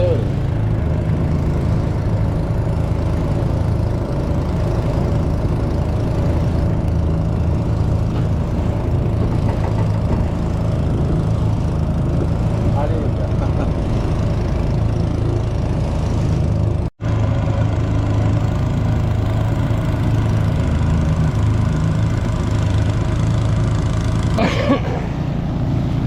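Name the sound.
boat engine running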